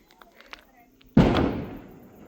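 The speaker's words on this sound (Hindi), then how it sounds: "ये देखो वही पटाखे भी फूटने लग गए हैं अभी से" A single loud firecracker blast bursts close by during the Igaas Bagwal festival, with a sharp onset and a long rumbling decay, following a few faint distant pops.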